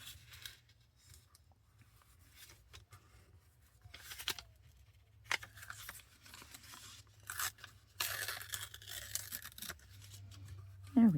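Large scissors cutting a paper specimen card, with quiet intermittent snips and crunchy paper cuts scattered over a low background hum, growing busier toward the end.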